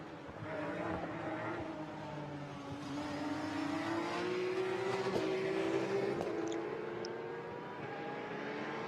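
Porsche GT3 Cup race cars racing at Zandvoort, engines droning and rising in pitch as they pass at a distance, a continuous blended roar of several cars with a soft swelling in the middle.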